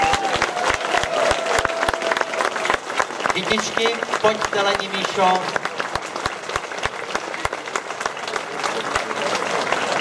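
A festival crowd at Tufarankafest 2012 claps in a steady rhythmic beat, loud and close, with a voice speaking over the clapping throughout.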